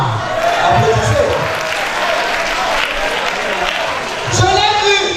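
Applause from a stadium crowd at a national patriotic slam championship, a steady dense wash of clapping throughout with a voice speaking over it and swelling near the end.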